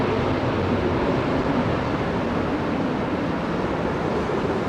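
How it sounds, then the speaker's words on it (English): Steady, fairly faint broadband rushing of wake vortex and downwash from a landing airliner at London Heathrow, an even airy roar with no distinct events and no voices. "listen to the vortex coming down, the downwash from it."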